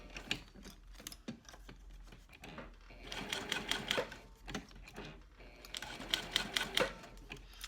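A home sewing machine stitches a mini backpack with a hump jumper under the foot, running in two close bursts of fast rhythmic mechanical clatter with brief pauses between them.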